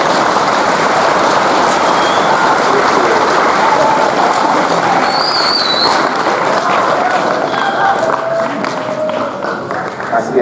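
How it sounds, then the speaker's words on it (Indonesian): Vocational high school students at SMK Pasundan 2 clap together during a police chief's address, a loud continuous wash of applause and crowd noise lasting the whole stretch, easing slightly toward the end. "Tepuk tangan dulu."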